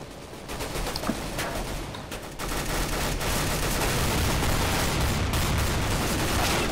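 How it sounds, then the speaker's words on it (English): Dense, continuous gunfire crackles through a CS:GO Gun Game match, with rapid overlapping shots and bursts sustained loudly throughout. "Guns ablaze."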